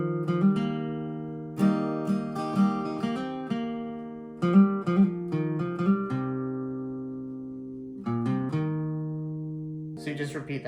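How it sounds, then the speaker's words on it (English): A second guitar picks the song's melody as a clear run of single notes in a steady rhythm. Some notes are held and ring out between phrases, and there is no speech. "Now the second guitar has the melody that everyone's familiar with."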